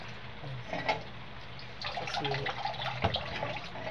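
Water dripping from a faucet into a sink in the early morning, with soft irregular drips and splashes over a steady background hiss. A brief word is spoken.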